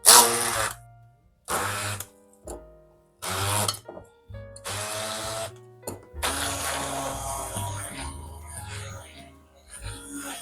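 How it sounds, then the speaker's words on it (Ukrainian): An immersion blender whirs through cheese and butter in several short pulses, then runs steadily for the last few seconds, with a low motor hum under the buzz. "Перебиваємо це все занурювальним блендером до однорідності"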